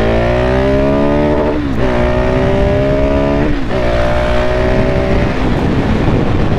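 A Husqvarna 701 supermoto motorcycle engine revs hard during a wheelie, loud and close, its pitch rising and dropping through several surges of throttle with no speech over it.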